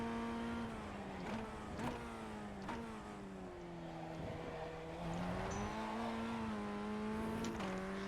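A Formula Ford 1600 engine drones steadily with shifting pitch, revving and dipping as the tires spin and slide through a hairpin, heard up close in iRacing at Sebring Club.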